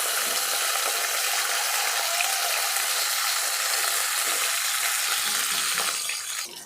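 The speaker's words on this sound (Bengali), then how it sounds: "মাছগুলো আমি উল্টে দিব আর লাল করে ভেজে নিব।" Pangas fish fry in oil in a wok with a dense, steady crackling sizzle, close and continuous, fading slightly at the very end.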